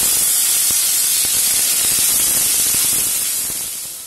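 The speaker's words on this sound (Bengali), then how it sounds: "এর মধ্যে টমেটো কুচিগুলো আগে দিয়ে ভেজে নেব" Chopped tomatoes fry in hot oil tempered with a bay leaf and whole cumin for a Bengali tangra fish curry, a loud, dense, steady hiss with faint clicks, close and fading slightly at the end.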